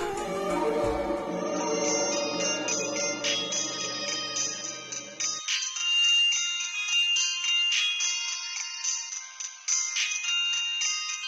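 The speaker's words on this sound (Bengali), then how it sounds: "বাবান ফোন করেছে।" A phone ringtone plays as a repeating electronic melody, at first over a low musical backing that drops away, leaving the bright tune ringing alone, close and clear.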